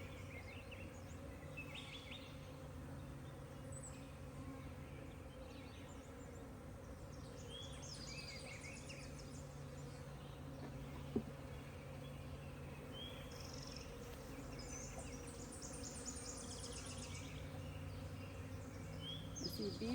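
Agitated honeybees buzz during a hive inspection, a faint, steady low hum that continues without a break, with thin chirping sounds scattered above it.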